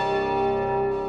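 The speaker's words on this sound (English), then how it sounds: "to create that more bell-like sound" Korg multi/poly synthesizer sounding a sustained bell-like tone built from cross-modulated oscillators, a steady rich harmonic drone with shimmering overtones holding evenly throughout, loud and alone.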